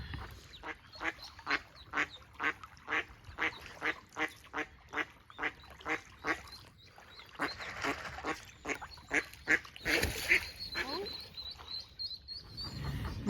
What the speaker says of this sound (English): Oh, little ducks.